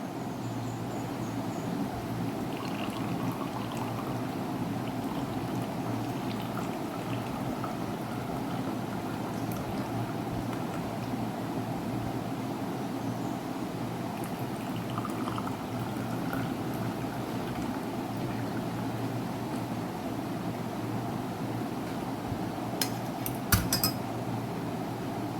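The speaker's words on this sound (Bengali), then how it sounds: "এবার আমি এটা ছেঁকে নেব।" Homemade kadha being strained and poured in a kitchen, a steady low liquid rush running throughout with a few faint clinks of utensils near the end.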